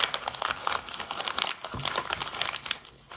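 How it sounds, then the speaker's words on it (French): Wrapping paper is crumpled and folded by hand around a cylindrical gift, giving close, loud crinkling and rustling in rapid irregular bursts that continue without a break and with no talking. "l'astuce pour emballer un paquet en forme de cylindre, c'est de faire un bonbon"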